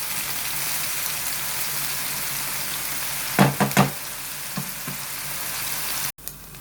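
Onions and peppers fry over medium heat in a pan, giving a steady low sizzle, with a short cluster of louder stirring clatters midway and a sudden cut near the end.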